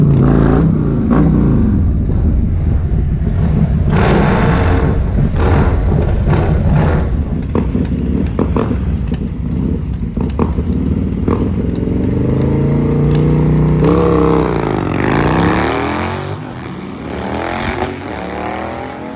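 A stage 3 Harley-Davidson Road Glide roars loud and close with a heavy V-twin rumble, revving and pulling hard down a drag strip, the engine note rising and falling through the run before easing off near the end.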